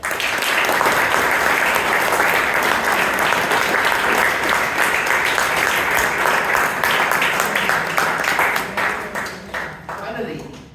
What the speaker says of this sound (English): I want you to applaud Toastmaster of the day, all speakers, all evaluators